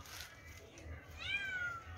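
A cat meows once near the end, a short rising and falling call over faint background talk and low room hum, moderately close.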